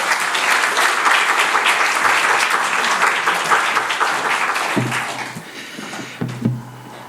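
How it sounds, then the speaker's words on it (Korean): A church congregation claps to welcome the pastor at a Sunday worship service, dense close applause that fades out after about five seconds, followed by a few thumps and a brief voice. "큰 박수로 환영해 주시면 감사하겠습니다"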